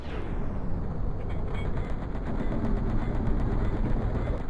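Doom gunfire pours out in a dense, continuous roar of rapid shots and blasts, loud and unbroken throughout with no pause.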